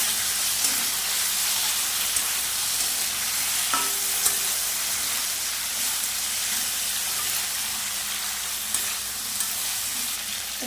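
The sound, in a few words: chili paste frying in pan for prawn malai curry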